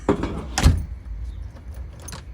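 A house door is pushed shut with a firm, close thud, followed by a short metallic latch or lock click and faint rattles afterward.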